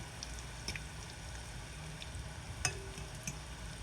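Falafel fries quietly in reused oil, giving a low, steady bubbling sizzle with a few small pops and crackles.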